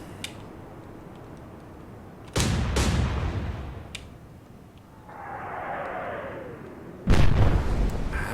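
Naval gunfire in the warship game Atlantic Fleet: two heavy, close booms with long rumbling tails, separated by a quieter stretch holding a falling whistle of an incoming shell.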